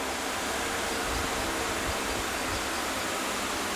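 Water rushes steadily over gold powder in a beaker during refining, a constant broadband hiss and splash that stays loud and even throughout.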